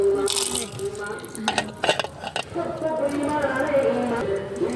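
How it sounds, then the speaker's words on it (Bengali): Popcorn kernels are tipped into hot oil in a pot and the lid clatters on, with metallic clinks and a soft sizzle close by, while people talk over it. "দিয়ে দাও দেখি পপকর্নগুলো দাও, ঢেকে দাও, ঢেকে দাও, ঢেকে দাও"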